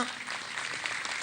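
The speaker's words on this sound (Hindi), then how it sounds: "तालियां।" A studio audience claps as a celebrated singer is introduced on a talk show, a short burst of dense, fairly soft applause already underway and continuing evenly.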